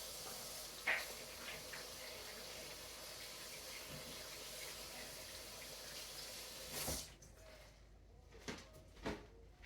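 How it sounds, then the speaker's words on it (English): Running tap water splashing into a kitchen sink while hands are washed after handling sourdough bread dough, a steady soft hiss that cuts off near the end, leaving a few faint knocks. "We gotta wash our hands, get all the skill off."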